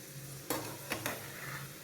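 Papaya pieces frying in oil for a pickle, making a soft, steady sizzle with a low hum underneath and a few sharp clinks or stirring taps of a utensil in the pan.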